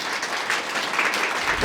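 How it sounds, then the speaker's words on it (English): Audience applause for the event organisers at a diversity CFP day held at Microsoft Reactor, a dense, steady wash of many hands clapping at moderate loudness throughout, with no speech over it. "So I would like to start the day with a round of applause for them and a big thank you."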